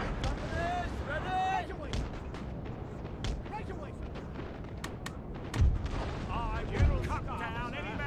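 Booming cannon shots and crackling gunfire fill a chaotic Napoleon: Total War battle, with people talking over the noise and two heavier blasts standing out.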